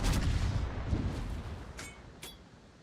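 Naval ship guns firing in World of Warships, a cluster of heavy booming shots loud and close at the start, then a few sharper distant reports fading over a rumbling sea background.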